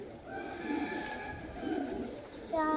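A pigeon coos in soft repeated low calls near a cage, over a steady faint background murmur.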